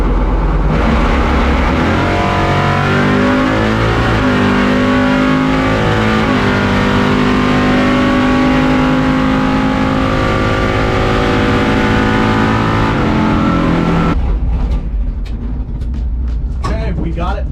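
A 700HP C10 pickup launching at a drag strip practice tree, its engine roaring loud and close with rising revs through several gear pulls, then cutting off abruptly near the end.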